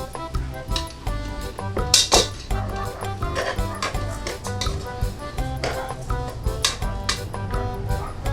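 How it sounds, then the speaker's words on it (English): Rice is stirred in a pot for Indonesian chicken congee, with irregular close scraping and clinking of a utensil against the pot in uneven strokes and a sharper clatter about two seconds in. "Give a stir."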